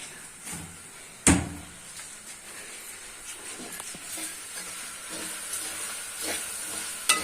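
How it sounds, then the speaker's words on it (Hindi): Peanuts and coconut dry-roasting in a pan, a soft continuous rustle with scattered scraping stirs and a sharp knock near the start, steady and moderately close with no talk. "थोड़ी देर ना पीनट और नारियल को हम पीस लेंगे, रोस्ट भून लेंगे, रोस्ट कर लेंगे"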